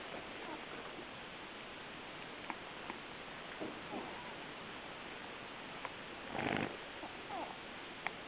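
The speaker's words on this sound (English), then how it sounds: "You're snoring." A person with a stuffy nose snores faintly and steadily through a low, hissy background, with one louder snuffling breath partway through.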